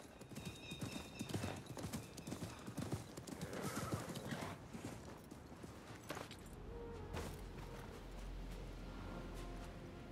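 A horse in an Assassin's Creed game clip-clops with steady hoofbeats and gives a whinny amid game ambience, followed by a low rumbling stretch, with no talking over it.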